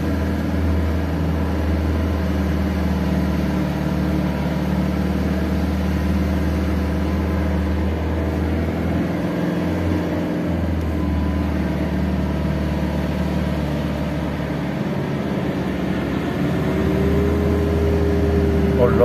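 A car engine labouring in first gear up a steep road toward the Peyrelade fortress, a steady low drone with a brief dip midway, heard from inside the car.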